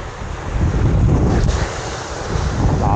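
Strong wind buffets the microphone at a black sand beach, a loud continuous roar mixed with the rush of surf, steady for the whole stretch.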